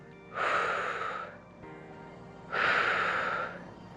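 Two long, breathy exhales with quieter inhales between them during a seated medicine ball exercise for seniors, close and soft with a hissing, airy texture.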